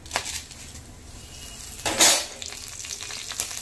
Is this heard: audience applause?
no